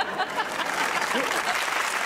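Studio audience on a Pakistani comedy talk show applauds in a steady, dense wash of clapping for about two seconds, with a voice faintly audible through it.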